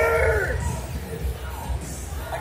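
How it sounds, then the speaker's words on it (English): A large crowd roars and cheers at an AEW wrestling event in Cincinnati, loud and dense at first, then easing into a steady background din of voices and yells. "Man, it's a big freaking crowd"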